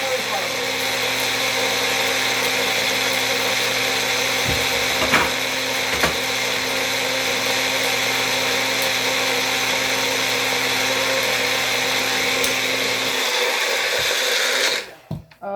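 Electric grinder whirring steadily as it grinds spices for Jamaican curry powder, a loud continuous motor drone running close for most of the span before cutting out near the end.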